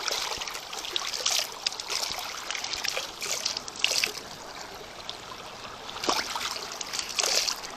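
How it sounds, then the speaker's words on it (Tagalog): Continuous flowing river water trickles and splashes nearby, with bright bubbling surges rising and falling throughout, no voices. "Buti na lang may ilog."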